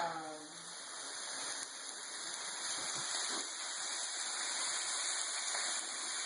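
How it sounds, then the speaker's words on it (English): Water, artesian or spring water, is poured into a cooking pot on the stove, a steady rushing gush that lasts throughout at moderate loudness with a faint high hum above it. "I'm going to add some water into this pot."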